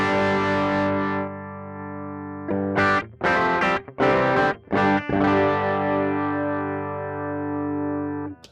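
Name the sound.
electric guitar clean tone through Fractal modeler, no amp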